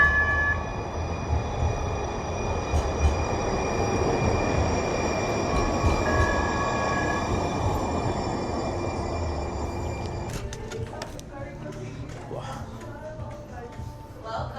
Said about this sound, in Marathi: मग अशी ट्रेन पण गेली इकडनं.